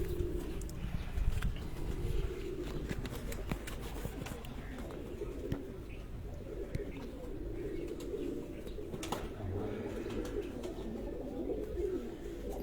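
Pigeons coo continuously at close range in a loft, a soft, layered, low murmur with occasional chirps, while someone talks quietly now and then.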